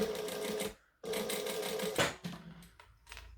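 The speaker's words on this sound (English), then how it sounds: "And then I'm just going to top stitch across there to seal it on." A sewing machine top stitching across a fabric wristlet runs in steady, loud, close bursts, with a short pause near the start and a stop toward the end.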